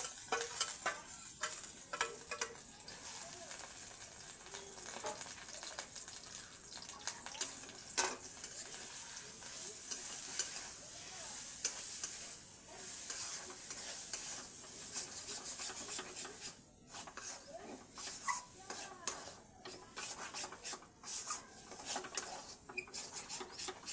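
Lentil paste sizzles steadily in hot oil while being stirred, for a spicy lentil-cake curry; a continuous hiss runs throughout with scraping, rubbing stirring strokes and no talking.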